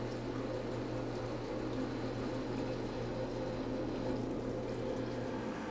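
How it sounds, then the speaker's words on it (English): EnviroLAV toilet Venturi being primed as the pedestal is pressed down, a steady low rush of flowing water with a constant hum underneath, even and unbroken throughout. "prime the Venturi by pressing the toilet pedestal down fully until the water turns blue"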